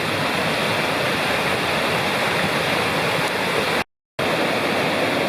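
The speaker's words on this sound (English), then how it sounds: "So we're getting into the whitewater part of the Ball River for sure." The Bald River runs as whitewater rapids through its gorge, making a loud, steady rushing roar up close. The roar has a brief drop to silence partway through, and no one talks.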